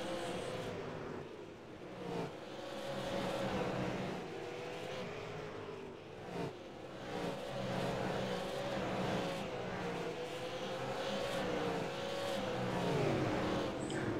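Race cars at a MIRL event at Southern National, several of them running close in a battle for position, give a continuous engine drone with rising and falling pitch as they pass, steady and moderately distant.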